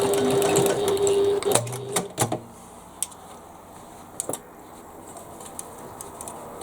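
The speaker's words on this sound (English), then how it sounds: "I'm just going to sew that little bit extra to close that corner" A sewing machine stitches a short run to close a bag corner, a steady close whir for about a second and a half, then a few scattered clicks and taps as it stops.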